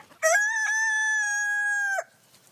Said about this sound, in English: he began crowing in the early hours of the morning